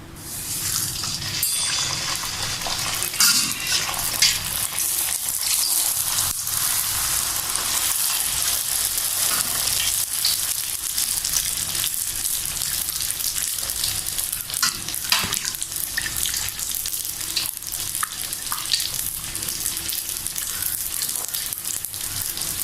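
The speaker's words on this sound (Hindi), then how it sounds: "ऑयल हो गया फुल गरम, आप देख सकते हैं कैसे। अब हम इसमें पूरी डालेंगे" Puris fry in hot oil with a loud, continuous sizzle and bubbling crackle that stays close and even throughout, with no voices.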